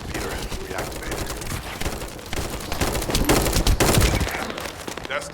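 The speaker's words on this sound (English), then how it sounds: "That stopped the gunfire." Gunfire in The First Descendant video game: rapid overlapping automatic bursts and sharp shots, loud and dense, building toward the middle and continuing to the end.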